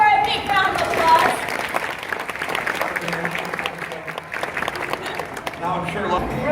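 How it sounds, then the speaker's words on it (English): Audience applause at a bird show for Cora, a cockatoo, a broad continuous clapping from a crowd that swells early then settles, with speech and crowd noise underneath. "Let's give Cora a big round of applause."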